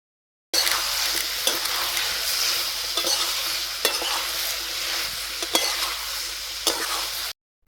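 Kundru (ivy gourd) frying in a pan with slit green chillies, a steady close sizzle broken by repeated scrapes and knocks of stirring, with no talking.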